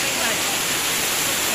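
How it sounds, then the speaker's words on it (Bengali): Water pours over Kangsabati Dam at Mukutmonipur in a loud, steady broadband rush that fills the whole moment without a break, with a voice faintly under it. "জল একদম উপর থেকে নিচে পড়ছে।"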